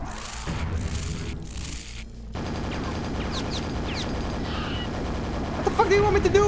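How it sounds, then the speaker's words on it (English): Gunshots ring out in the video game Quake, a run of sharp, loud bursts and booms layered over steady game noise, with a heavier cluster of shots near the end. "okay, I will shoot it, I will shoot it"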